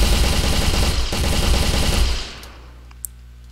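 Full-auto weapon fire in a video game: a dense, continuous burst of rapid shots lasting about two seconds, then cutting off to a quiet tail with one small click.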